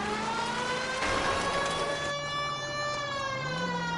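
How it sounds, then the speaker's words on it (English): A police car siren wails continuously in the video game L.A. Noire, with a rising and falling tone, loud and steady, over a low engine hum and no voices. "I'm gonna turn off the siren. Kinda sounds annoying."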